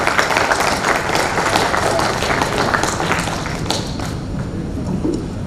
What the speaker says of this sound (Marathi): सर जोरदार टाळ्या